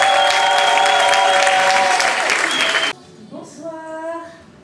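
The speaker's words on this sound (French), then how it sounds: "Je vous demande d'applaudir, de faire un maximum de bruit pour la suivante." Loud audience applause at a French live stage show, dense clapping filling the first three seconds and then cutting off sharply, leaving only faint background sound.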